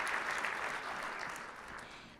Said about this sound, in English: applaud Jackie Rosen